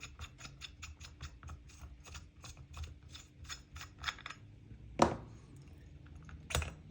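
A clutch puller is tightened to draw the clutch off a pocket bike, giving a quick run of rhythmic metallic ratchet clicks close by, then a couple of sharper clanks. No one speaks.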